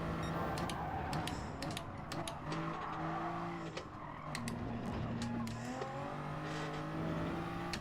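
A race car engine in the video game GT Sport drones continuously during a practice lap, with shifting revs and gear changes and faint tire squeal, sustained and moderately loud.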